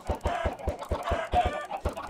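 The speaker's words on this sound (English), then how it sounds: "I'm just throwing some chickens really quickly." Minecraft chickens cluck in a quick, regular series of about nine short, clipped calls, close and clear with nothing else over them.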